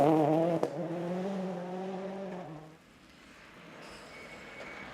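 A Ford Fiesta WRC rally car on a forest stage roars past with a loud, high engine note that holds and then falls away into the distance, leaving faint ambient noise.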